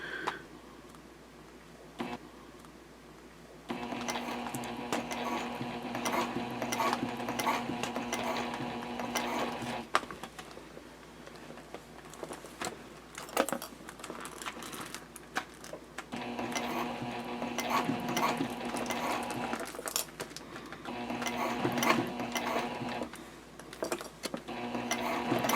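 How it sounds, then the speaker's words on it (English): Sewing machine stitching a jelly vinyl pouch from the side panel, running in steady whirring bursts of several seconds with brief pauses and handling clicks between runs. "And you can see that I am sewing from the side panel."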